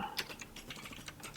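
Rapid clicking of keys on a computer keyboard during coding, a quick irregular run of light, close taps with no talk over it.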